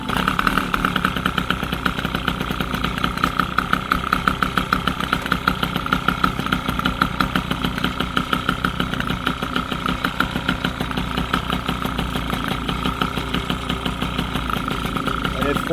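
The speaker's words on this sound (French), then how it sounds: "Le moteur est froid." A cold motorcycle engine fitted with a Malossi kit idles while it warms up in cool weather of about 15 degrees. It gives a rapid, steady, close-up putter that stays even throughout.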